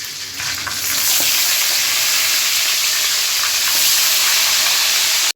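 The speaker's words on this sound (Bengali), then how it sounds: "এখন বাকি সব কয়টা ভেজে নিব" Chicken pieces for a chicken dish with palm kernel sizzle steadily in hot oil, a dense, loud, continuous frying hiss that swells after the first second and stays even throughout, with no voices.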